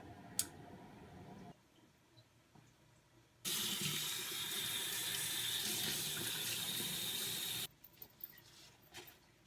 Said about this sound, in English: I hate washing my face in the sink. Water gets everywhere.